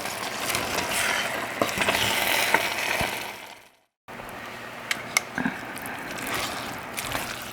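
Napa cabbage being stirred and tossed in a cooking pan, with steady scraping and clattering over a continuous sizzle-like hiss, broken by a brief silent gap partway through.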